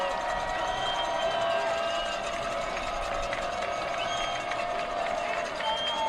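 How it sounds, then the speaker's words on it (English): Loud football crowd and sidelines at a Findlay vs Northwood college game, a continuous broad roar of cheering and voices with a steady, dense wash of noise. "Sidelines loud, the crowd is too."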